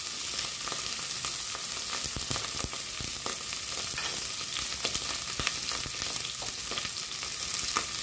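Beef pieces frying in a little added oil for a Filipino beef stew, a constant close crackling sizzle with scattered sharper pops and light stirring clicks, no voices.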